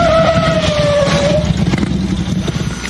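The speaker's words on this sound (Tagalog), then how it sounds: "Ipaparada ko muna ang motor ko sa tabi ng highway." Motorcycle engine pulling over beside a highway as a radio drama sound effect, a loud steady motor drone with a falling tone as the bike slows, running throughout behind the scene.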